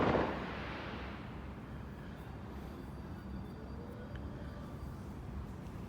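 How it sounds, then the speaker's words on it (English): Distant night-time fireworks beyond a screen of trees: a faint burst at the very start, then a soft, continuous low rumble of far-off booms. "Damn, it's a lot of fireworks."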